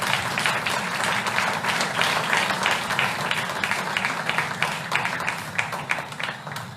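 Audience clapping to welcome a guest speaker at a museum inauguration ceremony. The claps are distinct and fairly close, running continuously and even, with some individual hand strikes standing out toward the end.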